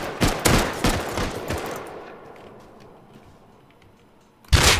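Video-game gunfire rings out in a fast, dense burst of shots over the first two seconds, fades to a quiet tail, then another loud blast erupts right at the end.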